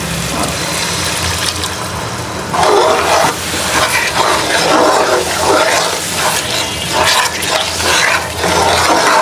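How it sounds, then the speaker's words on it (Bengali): A cup of water is poured into biryani masala frying in a large batch for about twenty-five people, making a loud, continuous rushing and gushing wash of liquid close by. "তো এখানে 1 কাপ পানি দিয়ে দিচ্ছি, মশলাটা কষানো হোক ভালো করে।"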